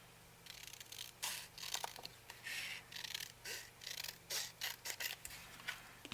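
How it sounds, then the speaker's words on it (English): Scissors snip repeatedly through paper during a card-making craft project, a quick series of close, crisp cuts over a steady low background hum. "And I just want to cut off this little white line."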